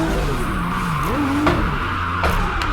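Tires squeal in a sustained skid as a car drifts through a clutch-kick slide in the Assetto Corsa racing game, with engine tone rising and falling under the loud, continuous screech.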